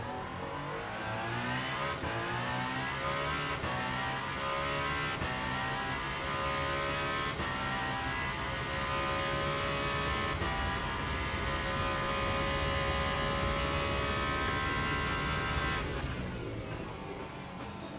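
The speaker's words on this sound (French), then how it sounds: "Le son du moteur est tout simplement génial, hein." Race car engine in the video game Le Mans Ultimate on the COTA circuit, loud and steady, rising through the revs in repeated gear shifts with no talk.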